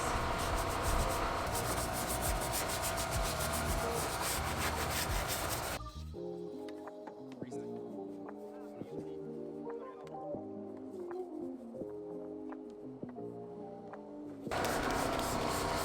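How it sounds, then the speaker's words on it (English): Stiff brushes scrub the plastic covers of a car engine bay while detailing with cleaner, a steady close rubbing and swishing that stops in the middle stretch, leaving quieter tapping and handling noises, before the scrubbing resumes. "we're gonna go ahead and grab our brushes so that we can, start hitting stuff"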